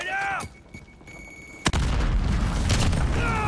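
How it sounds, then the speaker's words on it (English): A grenade goes off in the Modern Warfare video game, a sudden loud boom partway through that leaves a dense, sustained rumble. Gunfire and game effects come before it, with a faint voice in the background. "Grenade out!"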